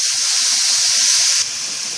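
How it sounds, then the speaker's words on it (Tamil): Onions and tomatoes sautéing in a pan for vegetable kurma produce a loud, close, steady sizzling hiss that drops slightly in level near the end. "வெங்காயம் தக்காளி சீக்கிரம் வதங்கணும் அப்படின்னா கொஞ்சம் உப்பு சேர்த்துக்கோங்க. சீக்கிரமா வதங்கிடும்."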